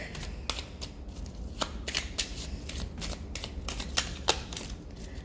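A deck of cards being shuffled, with a steady run of close, crisp riffling bursts and soft flicks, alone with no talk.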